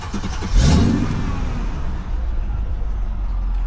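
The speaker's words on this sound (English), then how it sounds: "Let me just start up the car. You can hear that beautiful V8." A supercharged Mercedes-Benz E55 AMG V8 engine cranks and catches with a deep roar, then settles into a steady, rumbling idle close by.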